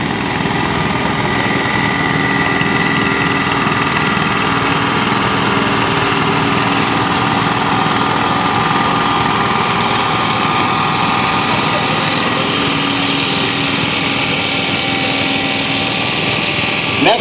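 A 1947 Gibson B antique tractor running in an outdoor county agricultural expo parade, its engine giving a steady, loud, continuous drone with a constant hum throughout and no break.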